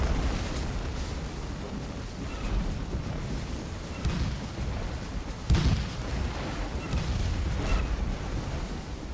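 Artillery battery cannon fire in the video game Scourge of War: Gettysburg, a dense, continuous roar of distant booms and rumbling with several sharper blasts standing out, loud and unbroken throughout.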